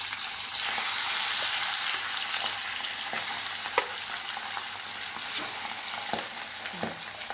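Pabda fish fry in oil in a pan, a dense steady sizzle with scattered crackles and a few utensil clicks, close and continuous with no voices.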